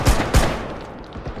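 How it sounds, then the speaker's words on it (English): Shotgun fire in a first-person shooter video game: two heavy, booming blasts in quick succession, each followed by a decaying tail and faint thuds. "Oh, is this a shotgun?"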